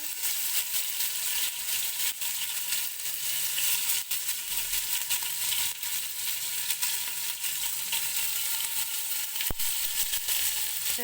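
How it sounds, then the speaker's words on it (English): Mshikaki sizzling and frying in hot oil in a pot, a steady close crackle and hiss running throughout with small pops and one sharp click near the end. "I've put oil in my pot. I'm just waiting for it to be a little bit hot, then put in the mshikaki."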